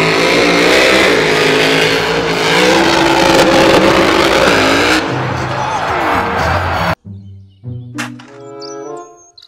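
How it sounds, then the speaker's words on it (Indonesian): Toy monster truck engine sound effect: a loud, continuous engine roar with revving and a crowd-like wash for about seven seconds, cutting abruptly to a few short, scattered noises. "Mobil truk monster."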